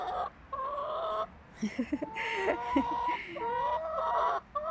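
Several laying hens cluck and squawk close by in quick, uneven bursts, with higher calls drawn out over a quiet background.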